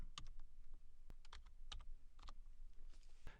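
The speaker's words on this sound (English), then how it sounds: "if I hold down the Control key, press the down arrow, right arrow" Computer keyboard keys pressed, including Control and arrow keys, in a run of close, crisp clicks with irregular rhythm, some in quick pairs, heard alone without any talking.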